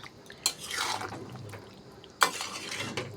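A chicken and potato curry being stirred in a pot, with two sharp scraping knocks of the spoon against the pot followed by soft wet sloshing and bubbling, quiet and close.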